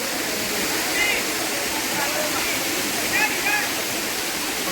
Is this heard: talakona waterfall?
yes